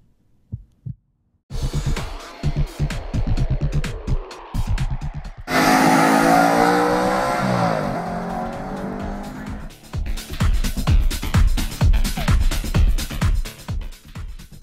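A 2013 Audi RS5 at Sonoma Raceway roars loudly through gear changes, its engine note rising and falling close by, with a sustained burst of tire squeal in the middle as it pushes hard through a turn.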